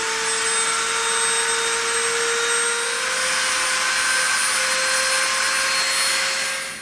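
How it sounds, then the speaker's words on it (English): Dremel rotary tool grinding a trench into EVA foam, a loud steady high-pitched whine held throughout without pause, close up, fading slightly at the very end. "we are going to use the Dremel to dig this trench out so we can embed the brass tube"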